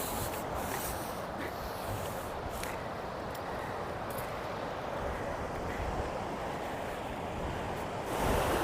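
A continuous roar of water rushing through the Narmada canal fills the scene, steady and broad like heavy flow, with some wind buffeting the microphone.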